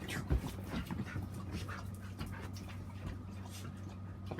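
A small lap dog pants and whimpers close by in a steady, breathy stream of short soft sounds over a low background hum, with no talk.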